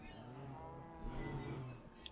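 A cow moos in Minecraft, one drawn-out bovine lowing call lasting nearly the whole moment, loud and close over a faint background hum.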